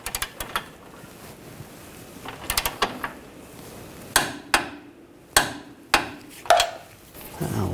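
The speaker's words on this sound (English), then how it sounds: "And we'll torque this nut to 70 foot-pounds." A control arm nut on a Volkswagen Tiguan being torqued with a wrench during rear lower control arm replacement, with soft ratcheting clicks early on, then a series of five or six sharp, loud metallic clicks spaced about a second apart.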